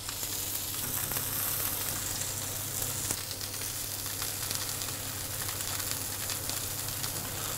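Bluefin tuna pieces searing in olive oil in a hot pan for tataki, a steady, fairly quiet sizzle and hiss with occasional small crackles, heard alone without speech.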